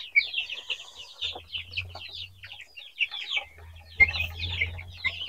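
Broiler chickens in a semi-closed poultry house, a busy chorus of clucks and chirps close by, with a low hum of ventilation fans coming and going beneath the birds.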